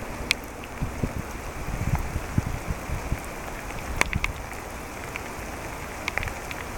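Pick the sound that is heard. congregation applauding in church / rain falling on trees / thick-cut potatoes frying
rain falling on trees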